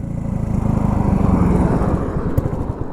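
A barn-find classic Honda CB125S motorcycle idles too high because of a sticking throttle, a steady buzzing single-cylinder putter close by that eases slightly toward the end, with no talk.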